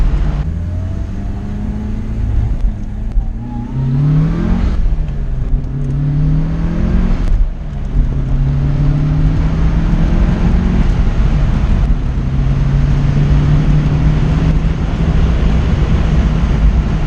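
Mitsubishi Lancer Evolution 4 rally car heard from inside while driving, a loud continuous engine drone that climbs in pitch through repeated gear shifts, with wind rush throughout.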